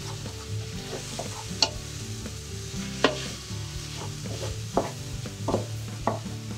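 Spices, including smoked paprika, turmeric and black pepper, fry softly in a pan; quiet sizzling runs under a few distinct spoon scrapes and taps spaced a second or so apart.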